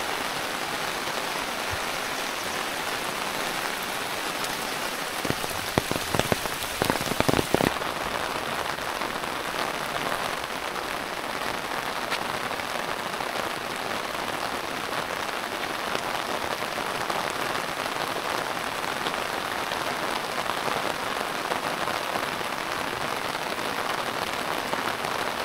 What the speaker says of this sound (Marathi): पावसाचा जोर चाललाय, वाढत असते.